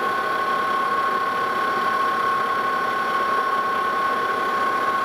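A lathe takes a steady cutting pass on a gear mandrel, a continuous even machine drone with a sustained high whine riding over the motor hum, unchanging and alone without talk.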